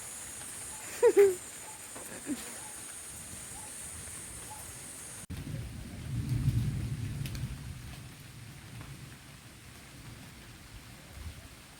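Soft, steady rain hiss throughout, with a low rumbling swell in the second half and a couple of brief knocks early on.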